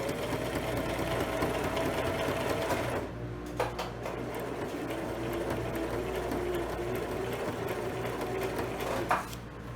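A sewing machine stitches a wrist strap with a loud, close, fast mechanical whirring, running continuously, pausing briefly about a third of the way in with a few clicks, then resuming at a steady pace.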